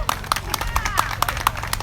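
Audience clapping for a young woman at a festival royalty crowning ceremony, scattered claps ringing out over a steady murmur of crowd noise and voices.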